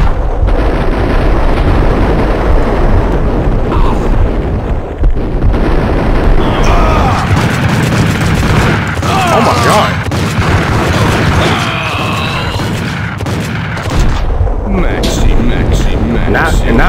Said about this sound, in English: I was sitting here spamming grenades.